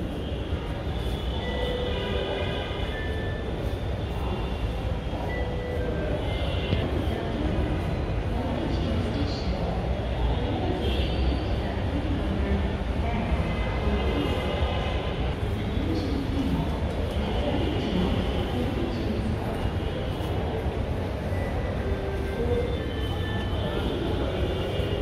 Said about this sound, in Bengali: ট্রেন আসতেছে মনে হয়।